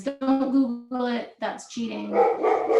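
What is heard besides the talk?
dog barking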